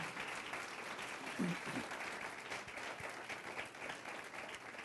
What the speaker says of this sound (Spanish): Denle un aplauso al Rey de los Reyes y Señor de señores.